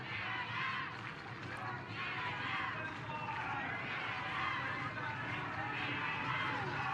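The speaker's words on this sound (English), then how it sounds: "Crowd chanting defense for Finland" A partial crowd in Vantaa chants for Finland's defense at the women's American football championship game against Germany, a steady, rhythmic roar of many voices with commentary talking over it.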